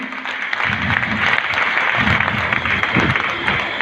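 At a DXN family gathering in Bihar, an audience claps steadily and loudly throughout, with low thumping sounds and some crowd murmur mixed into the applause.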